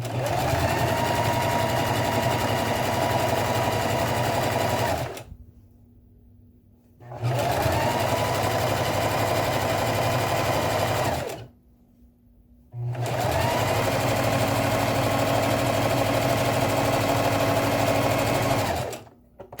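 A sewing machine stitches and back-stitches a simple handbag with its straps held together, running in three long steady bursts of loud, fast whirring, separated by short pauses where only a faint low hum remains.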